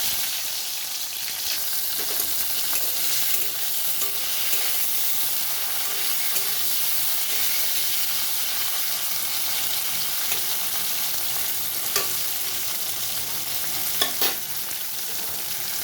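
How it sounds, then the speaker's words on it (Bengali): Bitter gourd fries in hot mustard oil in a kadai with a steady, even sizzle and hiss throughout, broken by a few sharp crackles and spatters, with no voices heard. "তো এখন এই উচ্ছেগুলো ভাজার জন্য ছেড়ে দিচ্ছি।"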